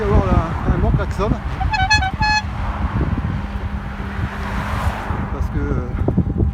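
A short honking horn sounds twice in quick succession, bright and fairly near, from a bicycle on a cycle lane on rue Stalingrad, set against steady traffic rumble and gusty wind buffeting the microphone.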